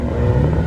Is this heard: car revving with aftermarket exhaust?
yes